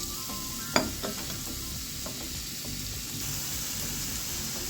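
A chopped medium onion sizzles in hot oil in a pan while being stirred, a steady close crackling hiss with a sharp utensil clink near the start and soft scraping throughout.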